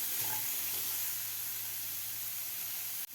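Broccoli sautéing with spices in a pan on a medium gas flame: a soft, steady sizzling hiss continues evenly, faint and close, ending with a brief clatter.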